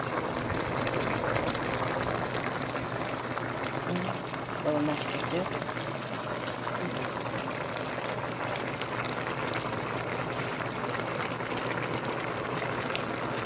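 Soft, steady bubbling of braised mackerel simmering in a pot, a faint wet churn heard beneath a woman's nearby chatter.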